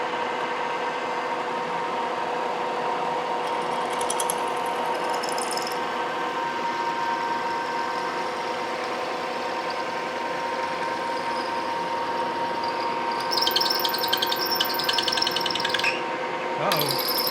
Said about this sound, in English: And it's drilling really nice.